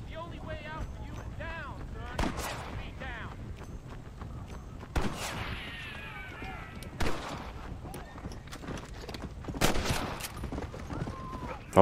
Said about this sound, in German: Wer schießt auf uns?